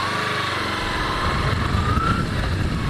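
A Kawasaki Ninja 250R motorcycle engine runs steadily and loud up close, its pitch climbing as the rider shifts into first gear and pulls away, with no voices over it.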